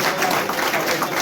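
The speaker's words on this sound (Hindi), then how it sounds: "मैं ताली की ध्वनि के साथ में आपसे निवेदन करूंगा" An audience claps in steady, dense applause at a trade association gathering in Uttar Pradesh, filling the whole short moment with no voices on top.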